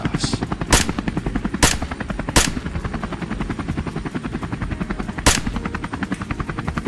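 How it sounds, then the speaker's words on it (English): Gunfire from a rifle across a field during a wild boar hunt: four sharp loud shots at irregular intervals over a steady rotor-like mechanical drone. "Gunfire thundered across the field, bullets tearing through the soil."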